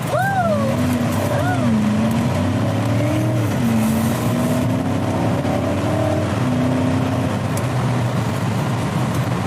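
A BMW's engine pulls steadily through rising and falling revs as the car accelerates on the road, a loud continuous drone heard from inside the cabin with people talking over it.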